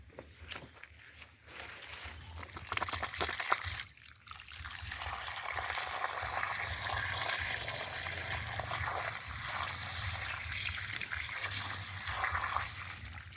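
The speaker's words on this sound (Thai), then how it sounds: "เดี๋ยวผมจะ ขอเปิดน้ำนะครับ เพื่อฉีดล้างก่อนนะครับผม" Water from a tap or hose gushes and sprays steadily to wash a coconut palm trunk damaged by beetle larvae, a continuous close splashing that runs nearly the whole time without speech.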